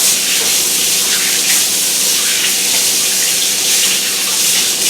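A tap runs steadily, a full, hissing stream of water splashing into a sink as something is rinsed under it, loud and close.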